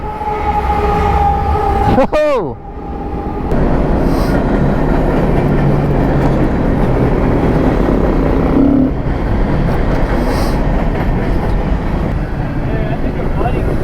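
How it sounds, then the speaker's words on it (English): A train passing close by, a loud steady rumble of rail cars that fills the whole clip after a short horn-like tone, with a person exclaiming over it. "Oh, there's a train."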